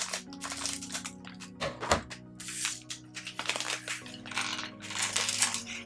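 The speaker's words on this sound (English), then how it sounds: "Cutting this open" A LEGO Disney Minifigures Series 2 mystery pack is cut open and handled nearby, giving a busy run of plastic crinkling, rattling pieces and small clicks throughout, with no speech.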